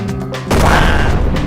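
A single heavy tank cannon blast in the video game Brick Rigs booms out, loud and close, with a rumbling tail that fades over the following second.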